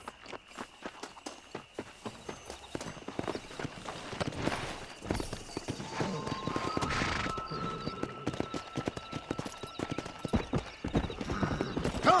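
Horse hooves clip-clop in the Red Dead Redemption video game, a steady rapid rhythm of close hoof strikes that quickens into a gallop, with faint tonal game sounds in the background.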